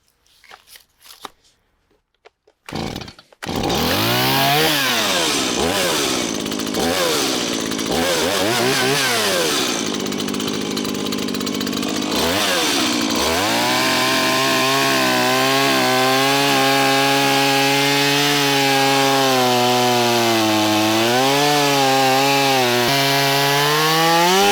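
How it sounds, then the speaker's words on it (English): A chainsaw cuts a straight edge into a block of tree stump, starting with a few short bursts, then a sustained loud whine that rises and falls with load as the bar bites into the wood, continuous and close. "Why are we out here with a chainsaw and a block of wood?"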